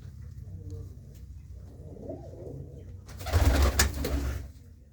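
Pigeons kept by a hobby breeder in a Punjab village coo softly and repeatedly, with a louder, noisier stretch of flapping or rustling midway and steady background murmur.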